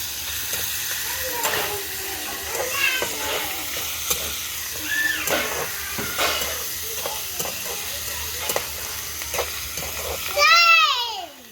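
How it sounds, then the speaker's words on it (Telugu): Sliced onions frying and starting to burn in a pan for a Sunday biryani and chicken fry meal, giving a steady, close sizzle with occasional stirring scrapes while people talk intermittently over it. "ఉల్లిపాయలు మాడిపోతున్నాయి ఫ్రెండ్స్ చూడండి."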